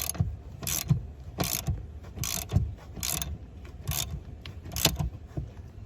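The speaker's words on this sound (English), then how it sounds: "we're going to put our 15mm socket on here and let's get it unbolted." A ratchet fitted with a 15mm socket works a finely threaded nut loose on a 1999 Jeep Cherokee XJ steering column, giving repeated quick clicking bursts in a steady rhythm, close and fairly quiet.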